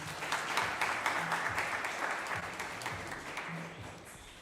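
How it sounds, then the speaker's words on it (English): A crowd keeps applauding as panel guests are introduced at a robotics competition awards ceremony in Zimbabwe, with sustained clapping that holds steady and softens slightly toward the close. "Let's keep the round of applause going."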